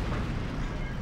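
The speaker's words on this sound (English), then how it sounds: "His little cannon actually penetrated me, and then the big one did." Tank cannon shells strike an armored tank in the video game Heroes & Generals, producing a dense, loud, rumbling explosive roar that fills the whole moment without any clear pauses.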